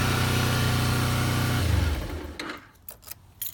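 A 2010 Kawasaki Ninja 250 runs with the choke on after its carburetors were cleaned, a steady close engine drone that suddenly drops away, leaving quiet handling noises.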